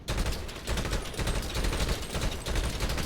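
In GTA 5 Online, gunfire is aimed at a partly bulletproof vehicle, a dense rapid burst of shots rattling continuously and loudly with no pause.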